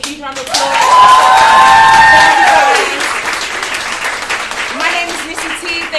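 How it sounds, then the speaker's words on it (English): Conference audience at a female entrepreneurial leadership keynote breaks into loud, sustained applause that peaks over the first few seconds, then tapers to lighter scattered clapping with voices mixed in. "Give yourselves a huge round of applause."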